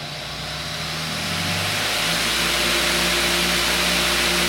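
A Harbor Freight 8 inch bench grinder spins up and settles into a steady, loud mechanical whine with an even hum, running alone without talk.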